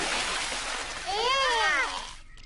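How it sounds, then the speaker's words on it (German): Cartoon water splashing as Daddy Pig from Peppa Pig sprays everyone, a burst of splashy noise joined by a swooping, wavering tone that rises and falls over about a second. "Papa Wutz hat alle mit Wasser nass gespritzt."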